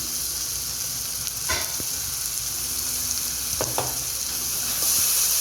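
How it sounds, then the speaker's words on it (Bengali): Cumin paste and chilli paste fry together in a pan, giving a steady loud sizzle broken by a few scraping stirs of the spoon, with the hiss swelling at the end. "একসঙ্গে এটা ভালো করে কষিয়ে নিচ্ছি।"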